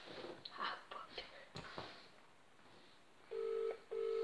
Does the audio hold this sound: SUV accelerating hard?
no